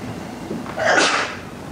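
A single sharp sneeze bursts out close by after a moment of quiet room tone, standing alone with no talking around it.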